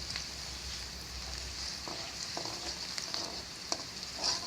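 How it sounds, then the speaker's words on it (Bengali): Onions and green chilies fry in oil in a pan for a potato bhaji, a steady close sizzle with a few soft stirring clicks and no talk. "পেঁয়াজগুলো আগে ভেজে নেব ভালো করে"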